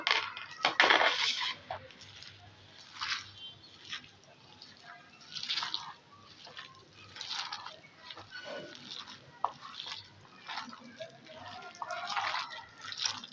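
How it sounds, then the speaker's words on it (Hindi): Chopped spinach is mixed by hand into a wet pakora batter, making squelchy, sticky slapping and squishing sounds in irregular bursts, close and fairly loud throughout. "अब वो इसमें ऐड करेंगे और अब करेंगे हाथ का इस्तेमाल ताकि ये सही से मिक्स हो"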